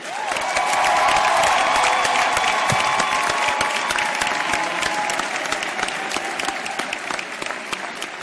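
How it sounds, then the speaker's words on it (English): Loud, sustained applause from a large crowd at a new venture competition, dense clapping filling the whole stretch and easing off slightly toward the end. "Please help me and give a great round of applause to all of the ventures."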